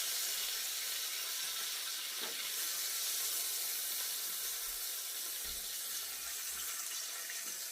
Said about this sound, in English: if there's too much grease in here, pour a little bit of it out